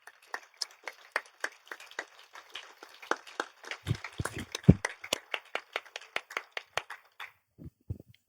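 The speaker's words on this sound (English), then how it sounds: "a round of applause for everyone." Sparse, distinct handclaps from a small audience at a live music dialogue event, a handful of people clapping in a loose rhythm that builds briefly then trails off to a few last claps.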